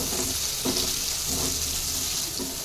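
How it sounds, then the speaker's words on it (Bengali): Soybean chunks frying with salt and turmeric in a pan, a steady dense hiss of sizzling oil with faint stirring scrapes, close and continuous. "2 থেকে 3 মিনিট মতো সোয়াবিন গুলো ভেজে নেবো।"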